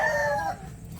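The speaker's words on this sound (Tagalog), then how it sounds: "Ito yung tatay ng mga naked neck na manok natin na inaalagaan." A naked neck rooster crows once, loud and close, the call trailing off and leaving a quiet farmyard background.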